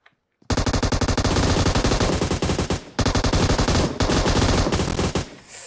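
Automatic gunfire rips through PUBG Mobile gameplay in long, loud sustained bursts after a brief silence, with a short break near the middle before the rapid fire resumes.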